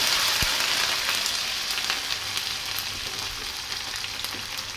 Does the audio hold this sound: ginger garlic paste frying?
yes